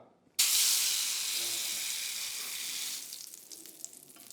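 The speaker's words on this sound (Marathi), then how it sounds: "तेलात तळला जाणारा पदार्थ कमीत कमी तेल घेऊन वर येतो" Beetroot cutlets drop into hot oil with a sudden loud sizzle that settles into a steady, bright hiss of frying, a few pops and crackles breaking through near the end.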